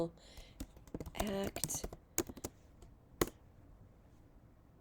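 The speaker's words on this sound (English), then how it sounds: "if I type in the Not Invisible" Fingers type a search on a computer keyboard in quick irregular bursts of clicks, with a brief voice near the start and a last sharp keystroke before quiet.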